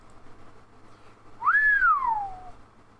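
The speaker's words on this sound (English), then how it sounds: "I wish I could have just whistled." A single human whistle rises, then glides smoothly downward in pitch, lasting about a second, clear and close over a quiet background.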